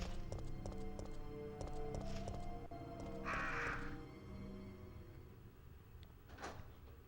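Crows cawing outdoors, faint and distant, with a short rough call partway through behind steady rhythmic knocking and background noise.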